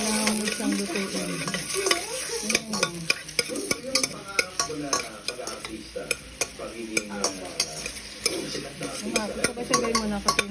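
Garlic, onion and ginger sizzle steadily in a hot pan while a spoon stirs and scrapes in frequent close strokes, the frying loud and continuous throughout.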